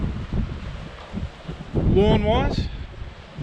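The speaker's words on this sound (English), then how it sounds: "it's as windy as all hell" Strong wind blowing outdoors across a lawn, gusting and buffeting the microphone in loud rushing swells, with a person speaking briefly over it.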